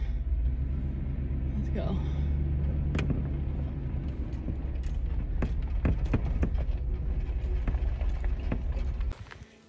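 A vehicle's engine rumbles steadily in four-wheel drive low gear while driving off, with clicks and knocks over the drone and a voice speaking briefly near the start, before the engine noise drops away at the end.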